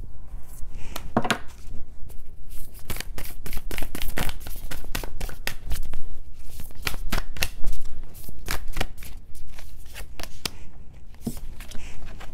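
A deck of tarot cards is shuffled by hand in quick, papery riffles and slaps, close and fairly loud, with bursts of crisp card flicks across the whole stretch.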